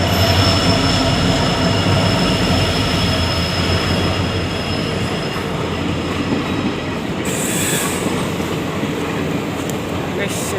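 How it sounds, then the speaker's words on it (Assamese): A train crosses a railway bridge near Gohpur, making a loud, continuous rumble with rhythmic wheel clatter, rattling carriages and a brief high squeal of wheels near the end. "ট্ৰেইন আহি আছে ট্ৰেইনখন চাব ৰ'ব"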